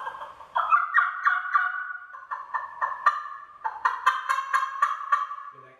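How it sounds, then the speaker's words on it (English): A hand-operated turkey call, worked by sucking air through a hose, produces a series of sharp, clucking and yelping notes in an uneven rhythm, close and clear with no talking. "Hear that cluck? That's a killer cluck."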